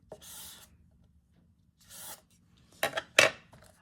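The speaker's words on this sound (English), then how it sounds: "Is just give it a bit of a burnish." Fabric and paper glued into a handmade journal being burnished by hand: several separate dry rubbing strokes, the last two louder and sharper, with quiet gaps between them.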